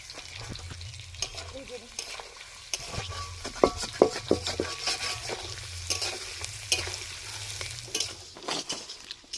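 Onions fry for beresta in a pan at an outdoor winter picnic biryani cookout, with a soft continuous sizzle under frequent scraping and clinking of a spatula against the pan, stirring in irregular bursts.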